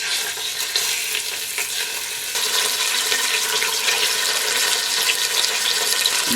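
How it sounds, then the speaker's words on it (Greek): Pork pieces sauté in hot olive oil in a heavy-bottomed pot, giving a loud, continuous close sizzle and crackle that intensifies partway through, with no talking. "Θα σοτάρω μέσα τα κομμάτια του κρέατος λίγα λίγα."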